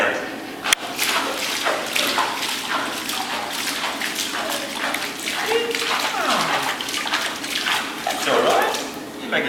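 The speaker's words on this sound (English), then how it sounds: "Look, I'm making a splash." A child splashes water in a pool, with repeated slaps and sloshes of water close by, one sharp splash standing out near the start, as an adult and someone talk over it.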